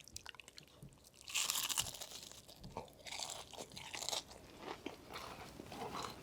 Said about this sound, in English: Let's go ahead and listen to that crunch again.